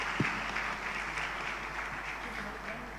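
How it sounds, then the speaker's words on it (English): Audience applause at a corporate transformation conference talk, a steady wash of clapping from a crowd that holds at moderate level for several seconds without fading. "applause."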